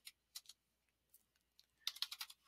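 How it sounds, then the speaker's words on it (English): Fast computer keyboard typing while entering a command, a few short bursts of key clicks separated by pauses, then a denser quick run of keystrokes, close and fairly quiet with no talking. "See if I can type correctly."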